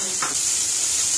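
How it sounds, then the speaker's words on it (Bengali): Paneer frying in a pan gives off a steady, close hiss and sizzle of hot oil with a brief stir-like clatter near the start. "তো পনিরটা ভাজা হচ্ছে, হোক।"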